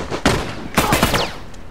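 Gunfire in The Last of Us Remastered, a short burst of several sharp shots in quick succession, loud and close, then fading into quiet ambience.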